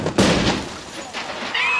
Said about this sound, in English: Add a loud explosion,